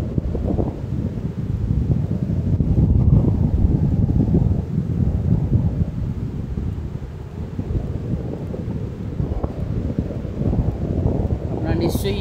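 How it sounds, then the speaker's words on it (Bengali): Strong wind buffets the microphone on an empty sea beach at Mandarmani, a heavy, continuous low roar that swells and eases in gusts throughout, with no voices over it. "আপনারা নিশ্চয়ই এই হাওয়াটা শুনতে পাচ্ছেন"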